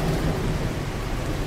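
Thunder rumbles through steady heavy rain during a storm in the truck driving game The Slaverian Trucker, a brief dense wash of noise at full strength.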